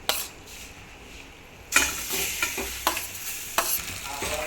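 Grated mango sizzles and crackles as it fries in ghee, with sharp scraping stirs of a spoon against the pan, close and steady.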